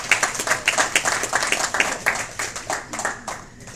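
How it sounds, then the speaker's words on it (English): Audience applause at a community gathering in Lauderhill, Florida, moderately loud with distinct individual claps in an uneven rhythm, thinning out toward the end. "Please give him a big round of applause."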